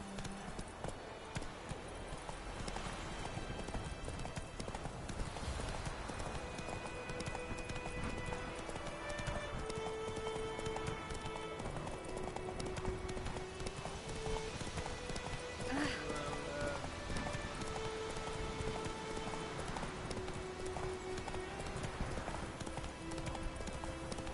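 Horse hoofbeats galloping in the video game The Witcher 3, a fast steady clip-clop running throughout under ambient game sound, with a voice talking briefly.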